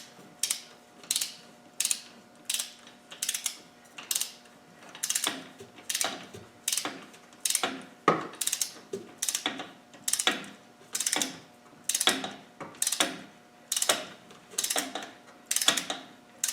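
A ratchet tightens a nut on a Land Rover 300Tdi cylinder head, making close, crisp clicking bursts in a steady repeated rhythm of short winding strokes, with no talking.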